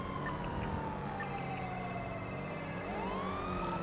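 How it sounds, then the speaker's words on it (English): A police car siren wails steadily in a GTA game street chase, its pitch sliding up and down, loud and continuous with no talk over it. "This new cop car is no joke."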